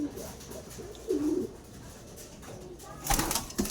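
Pigeons in a racing pigeon loft coo in a few short, low, throaty phrases, close by, with a faint voice and light background noise between the calls.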